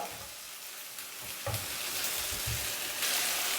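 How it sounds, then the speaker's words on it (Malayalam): Sliced potatoes and onions sautéing in a hot pan for Kerala-style potato mezhukkupuratti, with a steady close sizzle and a few soft stirring knocks partway through. "ഉരുളക്കിഴങ്ങ് നന്നായിട്ടൊന്ന് വഴറ്റിയെടുക്കാം"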